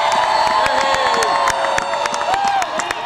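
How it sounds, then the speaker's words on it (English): A large crowd at a Boise celebration for the 2007 Broncos bursts into loud applause and cheering, a dense wash of clapping with shouts and whoops, close and sustained throughout. "Let's give a big round of applause."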